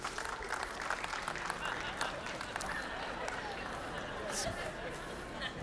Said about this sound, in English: how many of you, just round of applause at all of our campuses